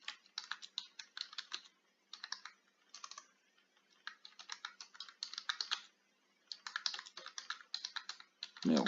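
Bursts of quick keyboard typing on a computer, clattering in uneven runs separated by short pauses while a forum recruitment post is written, close and fairly quiet.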